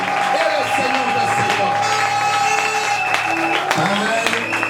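A church congregation at an evangelical service applauds together, sustained clapping and crowd noise mixed with music and a voice speaking over it, loud and continuous throughout.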